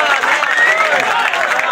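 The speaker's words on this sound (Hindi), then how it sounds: "कर दें हमारे बुजुर्ग भाई का भरपूर तालियां" Applause from a crowd at a bikers' camping night gala, a dense steady clapping with scattered voices and cheers over it, loud and close.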